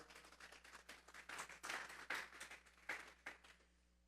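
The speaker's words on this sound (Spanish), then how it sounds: "Vamos a darle una ofrenda de palmas a Dios en esta hora." A church congregation claps hands together during a sermon, a dense run of overlapping claps building and fading over a few seconds, fairly distant and roomy with no speech.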